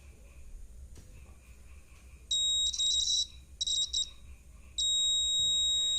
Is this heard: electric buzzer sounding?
yes